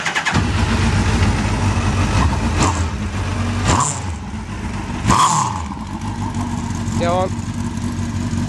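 Classic Mini fitted with a Hayabusa motorcycle engine, roughly 200 horsepower in a 750-kilo car, idles with a loud, busy burble broken by sharp blips and revs, while a nearby voice speaks briefly.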